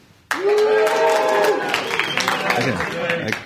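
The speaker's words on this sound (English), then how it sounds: "What an enthusiastic crowd." A live audience at a Skepticamp event in Sydney bursts into loud applause and cheering that starts abruptly and holds steady for about three seconds, with voices mixed into the crowd noise.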